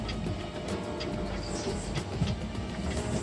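A wheel spinning on a wheel balancing machine gives a steady mechanical whir and rumble with faint rhythmic ticking, constant and close for a few seconds, no talking.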